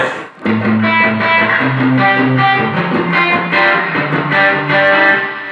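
Electric guitar chords played through an amplifier, drenched in heavy reverb that smears the notes into a continuous wash.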